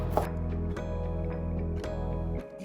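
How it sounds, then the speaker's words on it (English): A knife chops shallots on a cutting board in a kitchen, giving several sharp, evenly spaced taps over a steady background hum. "Turn my shallots around, and then I'm gonna start cutting them."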